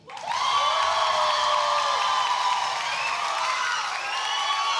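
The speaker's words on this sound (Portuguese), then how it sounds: "Aplausos para a Chayenne." A studio audience applauds and cheers for a contestant, a loud, steady wash of clapping with whoops and high-pitched shouts that holds for several seconds and then eases slightly.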